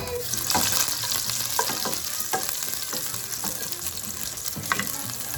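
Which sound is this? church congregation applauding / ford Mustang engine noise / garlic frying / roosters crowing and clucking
garlic frying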